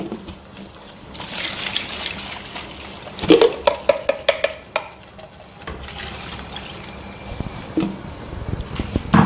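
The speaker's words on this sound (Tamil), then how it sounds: "இதை பாருங்க, நல்லா கலந்து விட்டுலாங்க." Sambar in a cooking pot is stirred with a ladle, making wet sloshing and swirling sounds with several sharp clinks of metal on the pot in the middle, heard up close.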